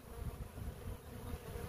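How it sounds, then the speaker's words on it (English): A honeybee swarm clustered on another hive gives off a dense, steady buzzing hum, close and continuous with no talking. "This is a swarm."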